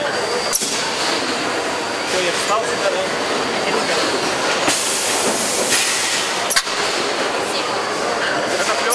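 The hot-air heating area of a plastic film forming machine at a plastics plant in Ekaterinburg, Russia, gives a loud continuous hiss and mechanical rumble, with a few sharp clacks and bursts of air, under talking voices.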